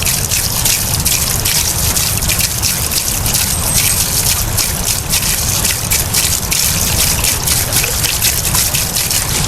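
Water from a natural spring in rural countryside gushing and splashing steadily into a container, loud and close, a continuous rushing trickle throughout.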